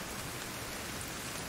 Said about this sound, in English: Can you not hear me over the rain again?